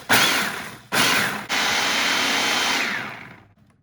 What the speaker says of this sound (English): now we're just gonna put the cap on and process these until they're a fine powder.